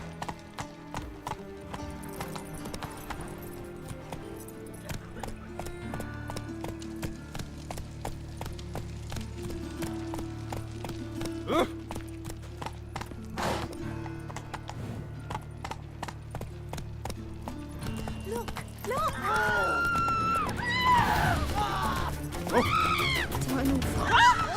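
In a video game, a horse named Roach gallops with fast, steady clip-clopping hooves and occasional whinnies. Steady game music plays underneath, and a player talks over the hoofbeats.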